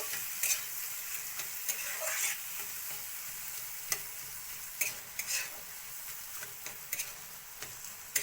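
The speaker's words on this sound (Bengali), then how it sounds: "ভালো করে ভাজা ভাজা করতে লাগবো" Pointed gourd fries softly in a pan, a faint continuous sizzle broken by light taps and scrapes of stirring.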